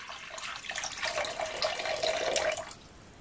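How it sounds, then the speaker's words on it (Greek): Water is poured steadily for about two and a half seconds into a bowl for bread or pizza dough, a close, continuous splashing stream that stops abruptly near the end. "θα βάλουμε τώρα 500 γραμμάρια νερό"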